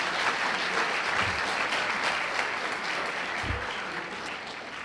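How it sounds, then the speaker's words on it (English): Steady applause from a seated crowd fills a sports awards banquet for a school's spring teams, dense and even throughout, easing slightly toward the end with no voices rising above it. "you can give them a round of applause because that's a tremendous accomplishment"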